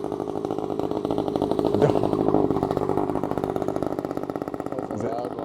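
A loud motorbike engine roars nearby with a rough, buzzing, steady drone that swells and holds as it passes, with people talking over it.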